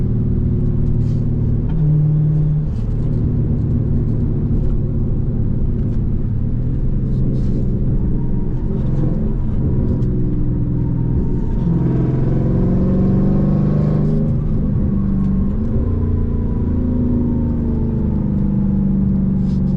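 A Toyota RAV4 drives along with its engine running: a steady low rumble and whirring road noise from inside the cabin, the engine note rising and shifting as it accelerates, with a few faint voices in the background.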